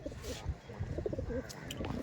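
Pigeons of the Madras breed cooing in a loft, soft low murmuring calls running throughout beneath a steady background bustle, with people talking faintly nearby.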